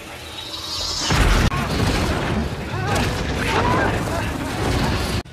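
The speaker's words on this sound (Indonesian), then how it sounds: "cairan itu pun meledak dan bucrat kemana-mana" A pool of green liquid bursts and splatters everywhere: a sharp boom followed by several seconds of loud crashing and rumbling debris noise.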